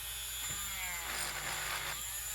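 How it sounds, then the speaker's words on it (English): TACKLIFE RTH30DC 4V cordless rotary tool drilling on its low setting, a close, steady motor whine with gritty grinding texture, slightly rising in strain near the middle before easing, heard alone for a couple of seconds. "Drilling using the RTH30DC. This is the 4-volt version of the TACKLIFE tools. Low setting."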